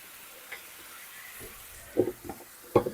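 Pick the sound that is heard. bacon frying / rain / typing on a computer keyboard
bacon frying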